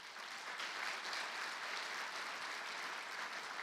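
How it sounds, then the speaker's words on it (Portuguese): A church congregation claps together during a service, a soft, distant, uniform patter of applause with no voices over it. "Aplauda o Senhor Jesus por isso."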